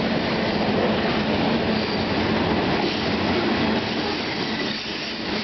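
CN freight train 395, bound for Chicago with tank cars of petroleum, lumber loads and agricultural cars, rolls past Bayview Junction in a loud, unbroken rumble with steady wheel squeal, close by and alone, with no talking.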